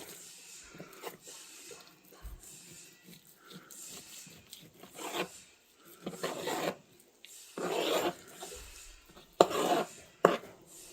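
Knife slicing and rasping through material outdoors in cold weather while prepping bags for Thanksgiving, with repeated scraping strokes that grow louder in bursts toward the end, no talking.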